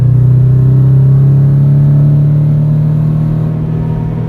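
A Scion FR-S engine revs steadily to 5,000 rpm in second gear, a loud sustained droning hum heard from inside the car with no talk over it.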